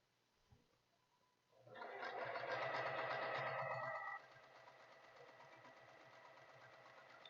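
A sewing machine runs over a seam while making a knitting project bag, starting with a soft click, then a steady whirring burst of stitching that drops to a quieter hum as it slows.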